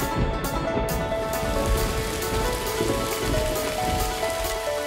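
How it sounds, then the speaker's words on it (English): Steady rain falls on a surface as a close, even hiss with scattered drops pattering through it, with no voices over the sound. "Oh, it started raining."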